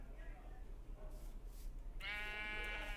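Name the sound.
sheep bleating in a video game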